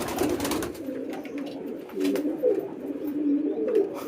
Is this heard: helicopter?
no